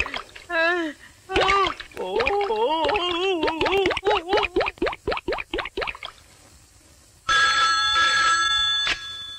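A telephone bell rings loudly and steadily for about two seconds in a Hindi film scene, just after someone talks.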